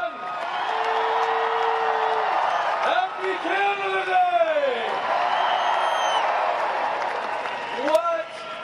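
A large outdoor crowd at the Canada Day celebration on Parliament Hill cheers, whoops and applauds steadily throughout, a loud continuous roar with a voice shouting a greeting over it.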